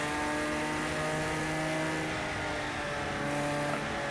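A Datsun race car engine in the Project Cars racing game drones steadily and loudly with a sustained tonal roar, holding a fairly constant pitch throughout, with no talking over it.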